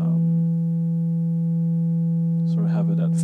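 Steady boosted sine wave from a Serge modular wave multiplier, a loud pure sustained tone with harmonics, joined near the end by someone talking over it.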